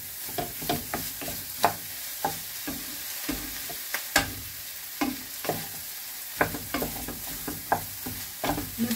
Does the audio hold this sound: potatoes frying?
yes